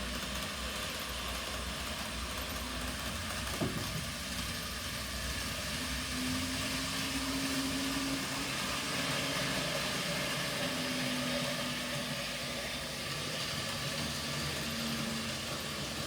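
A Dapol N gauge Class 33 diesel model locomotive runs on a model railway layout, climbing a steep gradient out of a harbour, making a faint, steady motor hum with a soft whirring drone throughout and no talking.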